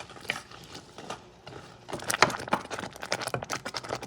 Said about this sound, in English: you're going to let this heat up until they start popping up, or popping out